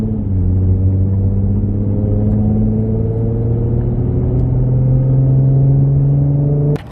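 Steady, loud engine drone from a 2014 Ford Mustang V6 fitted with a Roush exhaust while driving, with rising harmonic tones as it pulls along, then cutting off abruptly at the end.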